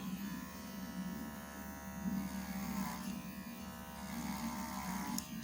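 Electric clippers buzz steadily and close up as they clip a horse's coat crusted with severe rain rot on a farm, a continuous droning hum that shifts slightly in pitch as the blades press into the hair.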